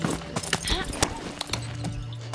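Rapid hoof clip-clops of a galloping horse in the video game Far Cry 6, rhythmic and close, mixed with excited voices talking over game sounds.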